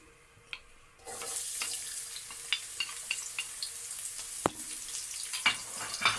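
Onion drops into a small amount of oil in a pan, starting quiet and then bursting into a steady sizzle punctuated by small sharp pops and a few utensil taps.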